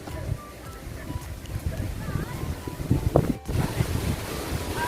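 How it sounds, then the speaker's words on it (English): Gusty wind blows steadily outdoors at Kenilworth Castle, a continuous broad rush with buffeting on the microphone, a brief lull near the middle, and faint voices and birdlike chirps in the background. "Oh, it's windy."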